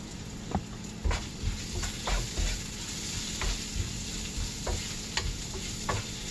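Peppers sauté in a frying pan, a steady low sizzle with intermittent utensil knocks and scrapes from stirring at an uneven pace.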